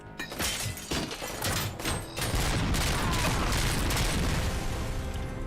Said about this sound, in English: This is a large caliber weapon.